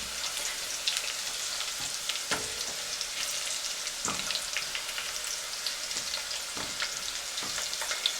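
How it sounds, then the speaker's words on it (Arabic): Garlic frying in a pot until golden, a steady dense sizzle running throughout with occasional stirring scrapes and pops, close and even in level. "كده التوم ابتدت تصفر معايا."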